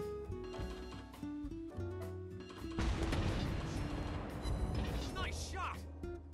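Battleship main guns firing in World of Warships, California Tier VII premium battleship, a sudden heavy booming salvo midway that rolls into sustained crashing rumble, with game music and effects under it beforehand.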